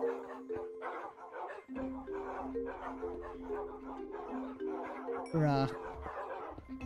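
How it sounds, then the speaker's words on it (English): Dogs in a video game bark and yip repeatedly in quick bursts under overlapping chatter from players, with a sharp sweeping tone near the end. "I wonder if that's the dogs."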